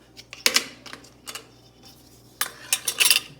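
Metal jar lids clink and clatter as they are laid in layers into a large pot, several separate bright metallic taps spread across a few seconds, closer and louder near the end.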